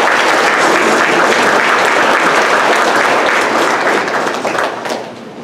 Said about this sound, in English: So I'd like a round of applause for her,